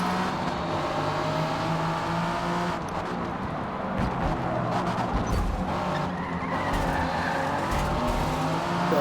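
Ford GT race car in Forza Motorsport 6 sliding wide through a corner, a continuous loud engine drone and tire scrub running steadily throughout with no pauses, other cars audible in the mix.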